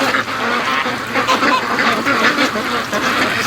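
A flock of free-range ducks quacking continuously and busily in a muddy yard, fairly close, with a dense overlapping chatter of calls filling the whole stretch.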